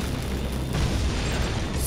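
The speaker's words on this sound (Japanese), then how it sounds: "すげえ爆発するんだけど。" Loud, booming explosion in Resident Evil 4, a dense low rumble that fills the whole moment without a break.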